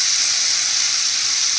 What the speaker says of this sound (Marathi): ही मोहरी छान इथे फ्राय झालेली, छान तडतडलेली आहे.